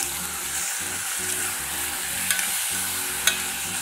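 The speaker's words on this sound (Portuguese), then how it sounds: "E vou começar a fritar o franguinho." Chicken pieces fry in a very hot pan for a chicken noodle dish, a loud, continuous close sizzle crackling steadily with a couple of sharper pops and clicks.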